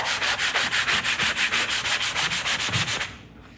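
Steady back-and-forth rubbing of a 220-grit foam sanding block on a solid walnut desktop, a rhythmic series of soft raspy strokes, close up, stopping near the end.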